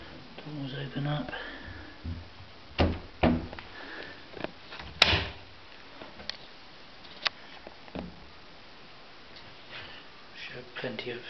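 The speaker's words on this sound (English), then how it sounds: "And then the doors open up." Cabinet doors on a London-made Victorian mahogany serpentine chiffonier sideboard are opened, giving scattered sharp wooden clicks and knocks with one louder latch snap midway, under intermittent talk and soft handling noises.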